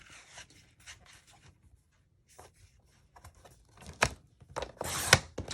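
Scissors or a trimmer cut through paper album base material for a handmade 5x6 album, giving soft scattered rustles and snips that build into louder, close crisp cutting bursts toward the end, with no talk.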